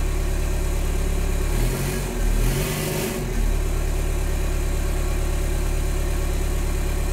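Volkswagen 1.9L ALH TDI diesel engine fitted with big injectors, idling with a steady close rumble and a slight brief change in tone midway.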